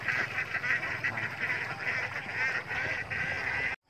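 A flock of domestic ducks quacking in a busy, overlapping chorus, fairly close and continuous for several seconds before cutting off abruptly.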